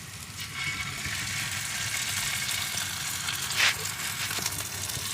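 Onions fry in a pan with a steady, close sizzle and crackle that holds throughout, with a brief louder spit partway through and no talk over it.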